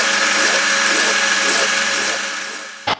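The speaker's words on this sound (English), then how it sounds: "just adding that nice curved feature in here with a file" A hand file shaping a curved feature into a metal vice end stop, a steady rasping scrape that runs for about two and a half seconds before fading, then one brief sharp knock.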